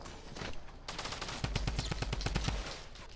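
Rapid bursts of automatic fire from a drum gun during a duo squads fight in Fortnite-style battle royale play, a steady stream of loud, evenly spaced shots with a denser volley in the second half.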